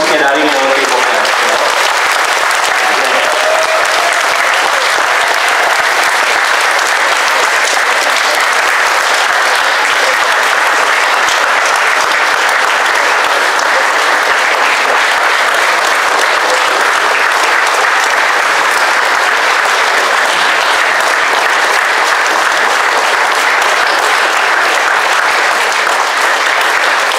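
A theatre audience at a stage play applauds the director and screenwriter, with loud, dense, continuous clapping that fills the room without pause for the whole stretch.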